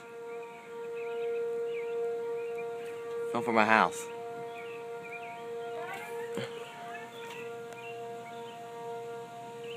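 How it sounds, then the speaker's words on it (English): A steady civil defense siren wail, an ASC Cyclone being tested near Three Mile Island, drones in the background throughout, with a sudden loud cat-like yowl and brief talking over it. "They're sounding off the sirens."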